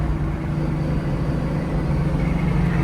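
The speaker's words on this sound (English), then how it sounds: "The sound this car makes is just perfect. Just that exact perfect rumble." A 1978 Pontiac Trans Am Firebird with a four-speed manual heard from inside as a steady, deep engine rumble, continuous and fairly loud with little change over the stretch.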